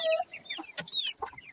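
Several chickens clucking close by in short, uneven bursts, with a few sharper squawks breaking through.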